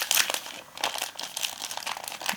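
Crinkling and rustling of a two-layer pouch made of cooking sheet over kraft paper, handled up close in irregular bursts of crisp crackle with no talk.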